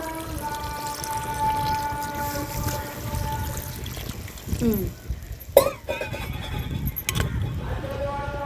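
Water poured into a pot of mutton pieces for gongura mutton, a continuous trickling splash with a faint tonal whine over it, then a few louder clanks and knocks near the end.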